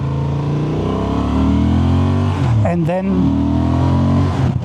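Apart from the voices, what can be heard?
Honda Transalp 750 motorcycle engine revving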